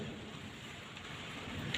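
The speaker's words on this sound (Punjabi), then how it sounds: "ਦੇਖੋ ਕਿੰਨੀ ਜ਼ੋਰ ਦੀ ਮੀਂਹ ਪੈ ਗਿਆ" Constant dense hiss of heavy rain pouring down with strong wind, quiet and unbroken throughout.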